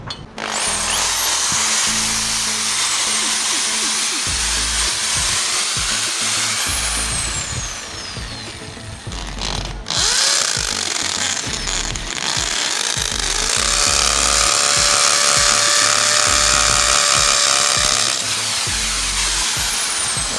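A loud power drill grinds continuously into a wall, pausing once for a moment before resuming with a harsh, high-pitched whine.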